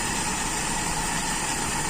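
A Toyota Kijang engine idles at lowered RPM during a distributor timing adjustment, a steady, close mechanical hum and vibration with no voices.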